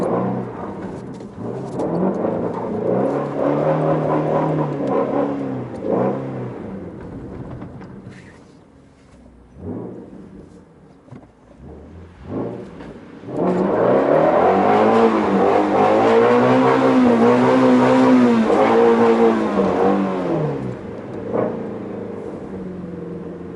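Shelby GT350 V8 revving hard while drifting on snow, loud sustained engine howl rising and falling with throttle, a quieter lull midway, then a long strong surge.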